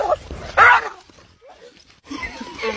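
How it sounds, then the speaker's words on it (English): A dog yelps and whimpers after touching an electric fence on a farm where a donkey stands nearby, a loud sharp cry up close followed by quieter whines and a few muffled sounds. "dog gets shocked by the fence"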